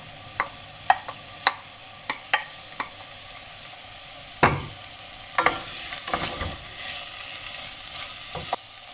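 Peas poured into a pan of softening artichokes for a pasta sauce. Sharp utensil taps come first, then a burst of sizzling and stirring clatter, close up and without talk.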